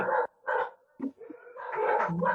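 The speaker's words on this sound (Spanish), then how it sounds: "Vecino que tiene unos perros que ladran y ladran" Several dogs belonging to a neighbour bark in short repeated bursts, a pair of loud yaps followed by quicker, yelping calls and a longer stretch of overlapping barking, fairly close by.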